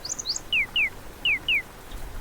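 A little bird sings short high whistled notes, first a few quick chirps and then four clear descending slurred whistles in two pairs, close and alone against a quiet background.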